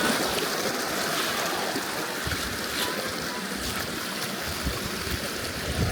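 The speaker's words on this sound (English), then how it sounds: "I gotta cross a little stream here." Small mountain stream flowing along the Jura Creek trail in Kananaskis, a steady close broadband rush and splash of water that holds constant throughout with no talking.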